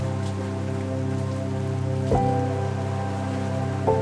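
Steady rain falls over the clear sea at Hyeonpo on Ulleungdo, a continuous, close hiss of drops with faint tonal hum underneath and a couple of sharp knocks.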